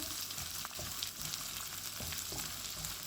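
Onions fry in hot oil in a pan, giving a steady close sizzle with occasional soft stirring scrapes and no voices.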